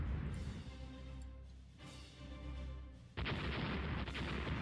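Naval gunfire from warships in the Rule The Waves naval battle game, heavy booming salvos with rumbling low-end tails, one big blast leading into a sustained roar near the end, with no talk.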